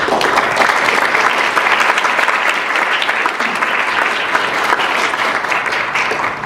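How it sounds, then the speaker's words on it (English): A conference audience gives presenters a final round of applause, a loud, sustained wash of many hands clapping that holds steady before tapering slightly at the end. "please let's give a final round of applause for everybody who spoke over the weekend"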